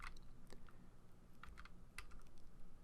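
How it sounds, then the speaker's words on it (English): Arrow keys on a computer keyboard are pressed in a handful of separate, sharp clicks spread unevenly across a quiet background, nearby and fairly faint. "I'm going to be using the arrow keys on my keyboard to kind of move this around a little bit"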